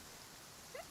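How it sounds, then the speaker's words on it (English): Steady rainfall in the video game Genshin Impact, an even, dense patter with no pauses and no voices. "It's raining."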